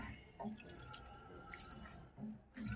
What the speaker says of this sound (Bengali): চালটা এবার আমি ধুয়ে ভাতটা বসিয়ে দেবো